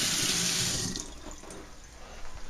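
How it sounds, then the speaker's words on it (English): Tomatoes being rinsed under a running kitchen tap, a loud rushing splash of water that eases and thins out after the first second, close with no talk. "I quickly just rinse those things off"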